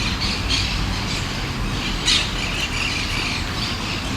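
Common swifts call in flight, a steady wash of shrill squawking screams from a flock, with one louder burst as a bird passes close.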